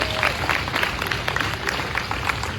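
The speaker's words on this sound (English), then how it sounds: "give these two a big round of applause as they make their way up" An audience at a retro festival claps loudly and continuously for two volunteers heading to the stage, a close, busy burst of applause with some crowd noise mixed in.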